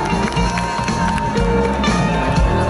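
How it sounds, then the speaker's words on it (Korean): An audience at a university award ceremony claps and cheers, with dense applause and crowd noise filling the hall steadily over music in the background. "박수 부탁드립니다."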